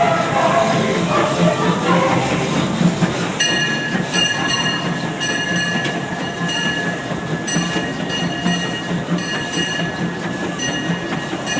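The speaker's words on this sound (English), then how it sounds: "this is Mr. Disneyland Man on the train tender of the E.P Ripley" Disneyland Railroad steam train E.P. Ripley running, heard from on or near the tender as a steady rumble of rolling wheels and rail noise, joined partway through by high metallic squealing tones that persist to the end.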